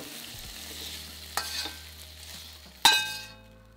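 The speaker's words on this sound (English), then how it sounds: "Stir fry for 3 to 4 minutes until starting to soften." Sliced onions and red pepper stir-fried in sunflower oil in a wok for a black pepper beef stir fry: a steady close sizzle with scraping stirs and a sharp metallic clink near the end, no talking.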